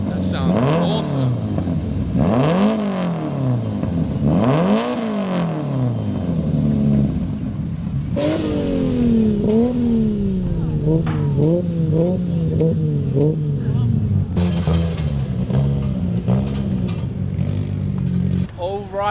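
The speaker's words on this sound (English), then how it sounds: "That's Enforcer, the 4AGE Turbo. That sounds awesome." A 4AGE Turbo drift car at Taupo Motorsport Park revs in sharp bursts that rise and fall, then pulls away with a climbing engine note and rapid gear changes. It is loud and close throughout.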